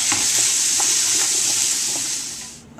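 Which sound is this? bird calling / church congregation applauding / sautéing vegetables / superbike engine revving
sautéing vegetables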